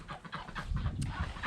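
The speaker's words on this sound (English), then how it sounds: "I do know what that is. That's called chickens." Chickens on a farm cluck in short, soft bursts at close range, with a low rumble of background noise underneath and no talking.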